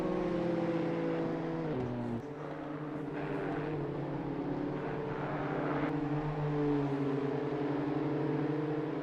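A race car engine in a racing video game, on the Kyalami circuit, holds a sustained high drone that drops in pitch briefly partway through and then settles back into a steady whine, loud with no voices over it.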